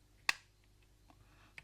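Plastic parts of a Sony Data Discman clicking together during disassembly: one sharp, close snap, followed by a few faint ticks and a smaller click in a quiet room.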